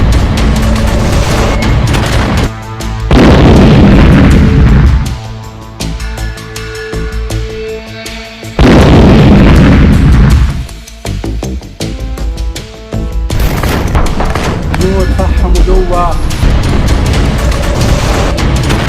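Heavy booming blasts from bombs and shells in IDF air strikes on Hezbollah, coming in two long rumbling waves over a steady musical bed, loud and close, with no voices.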